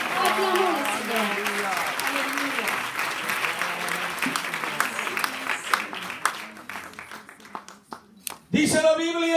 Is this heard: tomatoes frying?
no